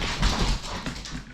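Dogs whimper and scuffle nearby in a short burst indoors, their restless noises mixed with light tapping sounds.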